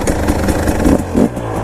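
A 2019 KTM 300 EXC TPI two-stroke dirt bike engine crackles and pops loudly up close, running rough with uneven revs right after starting.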